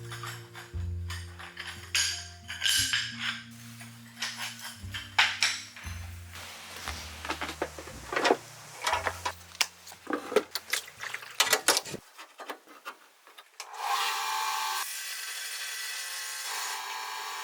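Harsh grinding and scraping bursts of a tool cutting through ceramic floor tiles, with a low tonal hum underneath, then a steady high whir of a running power tool.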